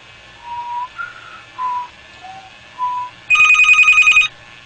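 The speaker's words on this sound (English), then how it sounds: "So the phone is ringing." A telephone rings on a line tapped with a beige box, a clear electronic ring burst following a few short tones, close and loud with no talking.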